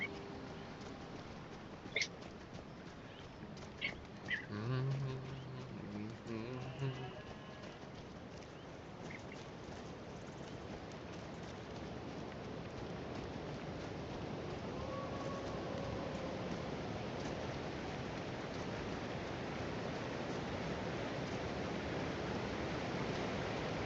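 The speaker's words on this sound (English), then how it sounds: "I hear the water falling in the distance, the birds chirping" A distant waterfall in the video game Skyrim rushes in a steady, soft wash, with a few thin bird chirps early on before the flowing water takes over.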